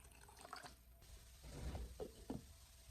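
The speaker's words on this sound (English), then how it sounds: "Next, I pour water into the pot until the ingredients are covered." Water poured into a pot of cooked ingredients for an egg dish makes a faint, quiet splashing with a few soft gurgles.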